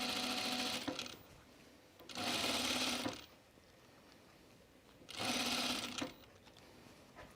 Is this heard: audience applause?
no